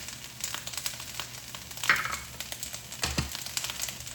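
Cooking oil and black bean paste frying in a pan for eggplant, a crackling sizzle with scattered pops and a couple of louder spattering bursts.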